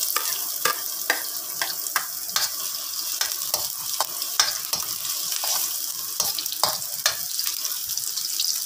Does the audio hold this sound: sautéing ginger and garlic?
yes